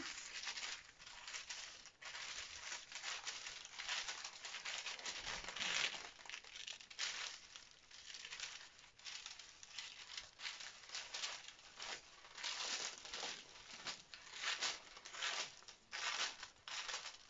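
Scissors snip along pattern lines while a dress is cut out. The cuts come as a quiet, irregular run of crisp paper-and-fabric crinkling and clipping strokes, close by, with brief pauses between them.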